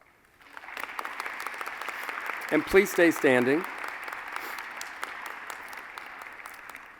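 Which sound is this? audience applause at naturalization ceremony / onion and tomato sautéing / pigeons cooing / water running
audience applause at naturalization ceremony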